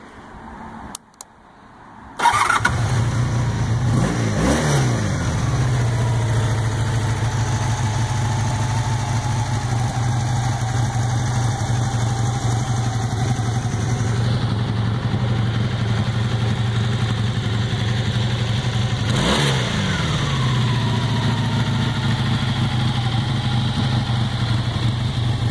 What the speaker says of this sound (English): Here's the bike turned on.